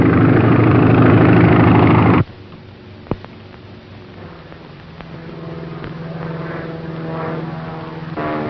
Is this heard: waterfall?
no